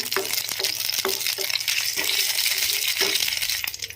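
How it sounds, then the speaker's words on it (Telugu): Whole spices (cinnamon, cardamom, cloves) with a bay leaf frying in hot oil for a mushroom curry. A dense, steady sizzle runs throughout, dotted with light rattling clicks as the spices are stirred. "చిన్న చెక్క ఇలా దాల్చిన చెక్క ఇలాచి లవంగ వీటిని ఫ్రై చేసుకుందాము"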